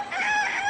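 A rooster crows once in a short, loud, sustained cock-a-doodle-doo, bright and close, heard during a noontime variety show, with no talk over it.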